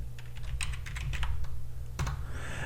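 Typing on a computer keyboard, heard as a quick run of close clicks with a steady low hum behind it and a brief pause before a final few keystrokes.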